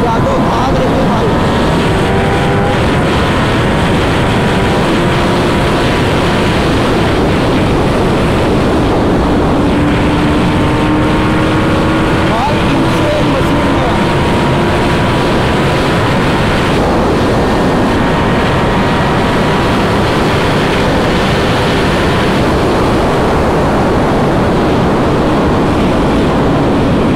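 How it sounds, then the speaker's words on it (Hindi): Strong wind blows across an open drag race site beside a road, roaring as a loud, constant buffeting rush against the microphone, with faint voices and distant motor sounds half-buried beneath it. "और हवा बहुत तेज़ चल रही है"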